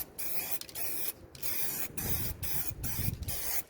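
An aerosol spray paint can hisses in a series of short and longer bursts separated by brief pauses, close and fairly soft, with no voices.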